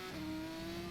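Formula 2 car engine in a sim racing game at Barcelona, a steady sustained tone held on throttle, loud and continuous for under a second with no talk.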